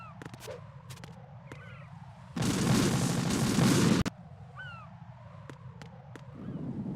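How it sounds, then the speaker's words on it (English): An explosion in the video game Metal Gear Solid 2 Substance: a loud, sustained roaring blast lasting under two seconds that cuts off abruptly, set amid quieter game ambience with faint chirps and clicks. "Hay un kaboom ahí."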